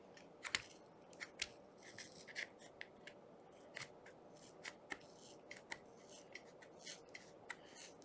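Scissors snipping through yarn to trim a pom pom: crisp, close metallic snips come in irregular clusters with short pauses between them, quiet overall and without speech.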